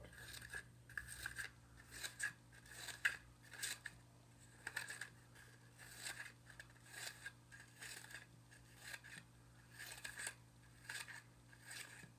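Scissors snipping around paper in a quiet room, a long series of soft, evenly repeated crisp cuts over a faint low hum.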